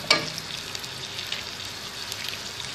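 Tomatoes with salt, turmeric, red chilli powder, cumin and coriander frying in a pan for ginger chicken, a steady soft sizzle running throughout after a brief sharp clatter at the start.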